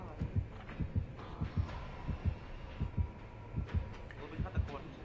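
Steady double-thump heartbeat warning from the killer in Dead by Daylight pulses in a regular lub-dub rhythm, about eight beats, fairly close and clear over a low background hum.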